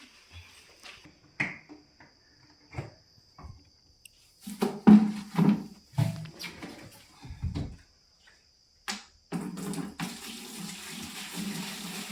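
Fine oil is poured into a container, a soft continuous trickling heard near the end, after scattered clinks, knocks and handling noises at close range.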